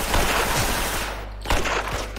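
Rapid automatic gunfire in a video game, loud and continuous, with a brief lull partway through before the shooting resumes.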